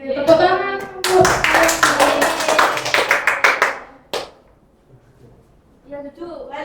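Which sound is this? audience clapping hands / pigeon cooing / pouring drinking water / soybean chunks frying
audience clapping hands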